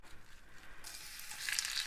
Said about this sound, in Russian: А пока мы обжарим лук.